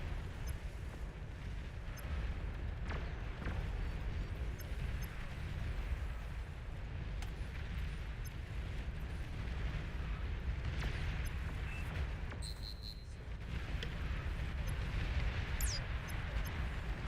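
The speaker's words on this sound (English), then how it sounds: "Enemy commander destroyed." Commander unit blowing up in the real-time strategy game Beyond All Reason, a dense, sustained rumble of low booms and blasts with brief high zaps and whines on top, steady and loud throughout.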